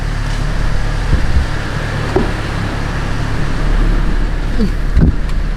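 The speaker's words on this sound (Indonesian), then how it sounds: "Nah aku lagi manasin mobil." Car engine idling while warming up on a hot day, a steady close low rumble with faint intermittent clicks and knocks.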